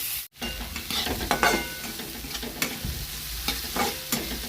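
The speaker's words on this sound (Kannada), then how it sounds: "ಬ್ಯಾಳೆ ಹಾಕ್ಕೊಂಡು ಸ್ವಲ್ಪ ಫ್ರೈ ಮಾಡ್ಕೊಳಮ್ರಿ" Lentils frying in a pan, with a steady sizzle and repeated scraping and clattering stir strokes, close and fairly loud, no voices.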